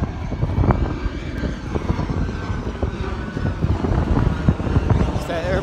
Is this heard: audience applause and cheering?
no